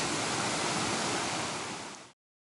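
Dismal Creek Falls, a waterfall on the Appalachian Trail in Virginia, roars as a steady, loud broadband rush of falling water that fills the clip, then cuts off abruptly near the end.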